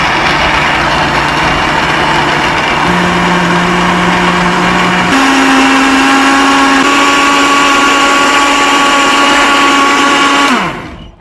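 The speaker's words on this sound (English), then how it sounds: "Blending begins." A blender whirs loudly and steadily blending salmon and kale soup, its motor pitch stepping up a few times before it winds down and stops at the end.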